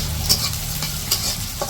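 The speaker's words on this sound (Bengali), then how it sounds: "এই যে পেঁয়াজ আর কাঁচামরিচ দিয়ে দিছে পেঁয়াজ আর কাঁচামরিচ একটু ভেজে নিব" Onion and green chili fry in hot oil in a wok, a close steady sizzle broken by a few sharp scraping stirs of the spatula, with no voices.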